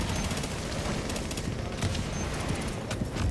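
Dense gunfire from The Division, a co-op shooter set in New York in December, rolls on steadily for a few seconds as a continuous clatter of shots with no clear pauses.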